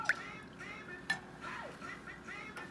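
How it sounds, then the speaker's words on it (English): A spoon stirring a Dijon mustard mixture while cooking sliders, giving a few faint, quiet clinks against the container spaced about a second apart over low background noise. "now I'm going to stir that up"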